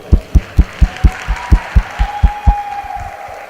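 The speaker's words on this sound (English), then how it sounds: "Give them another round of applause" An audience at a high school Diversity Day stage show claps in a strong, steady rhythm of about four loud, close beats per second that gradually softens near the end.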